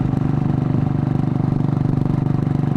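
A Buell Blast motorcycle engine running while riding, a loud, steady, close thumping single-cylinder pulse with a rapid even beat throughout.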